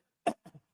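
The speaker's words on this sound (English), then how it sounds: "I have to clear my throat" A single brief throat clearing, a sharp rasp followed by two softer short grunts, close and fairly quiet with silence around it.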